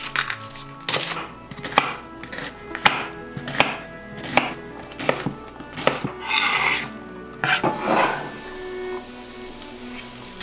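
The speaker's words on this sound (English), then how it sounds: "diced into a second onion" An onion diced with a knife, a series of sharp, close chopping thuds on a board in irregular bursts, some quick runs of cuts, with no voices.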